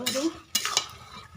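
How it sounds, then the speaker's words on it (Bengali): Vegetables being stir-fried in a pan for khichuri, a brief close burst of sizzling with two quick scraping stirs of a utensil, no voices. "আবারও একটু সবজিটাকে কষিয়ে নিচ্ছি।"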